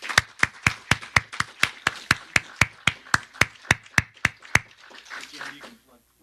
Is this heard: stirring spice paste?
no